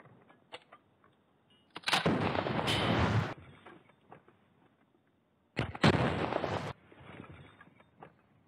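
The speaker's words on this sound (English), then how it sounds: "let's check on Joel trying to shoot that bomb." Shooting a bomb in The Last of Us Part 1 sets off two loud, booming blasts, each about a second long with a rumbling tail, separated by a short quiet gap.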